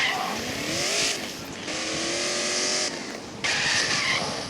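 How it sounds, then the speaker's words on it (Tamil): Video game car drifts and skids with failing brakes, rising tire squeals sweeping up over a steady racing engine roar, loud and close, with brief gaps between slides. "ஐயோ, என்ன ட்ரிஃப்ட் மோட்லையா வச்சு ஓட்டுறேன்"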